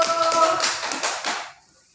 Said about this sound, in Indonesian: Silakan tepuk tangan pada kelompok 1.